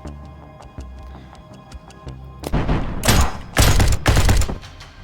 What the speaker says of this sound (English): Mr. 4 will shoot the gun guy. Mr. 5 will shoot that guy.